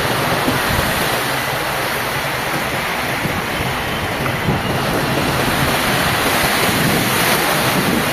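Steady roar of sea surf washing onto a beach at Digha, with wind buffeting the microphone throughout and no voices.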